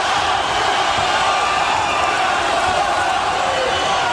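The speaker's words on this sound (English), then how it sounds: "You hear the crowd chanting for Zaragoza" A dense arena crowd at a 1997 boxing match between Daniel Zaragoza and Erik Morales roars and chants steadily, a loud, unbroken wash of voices with no pauses.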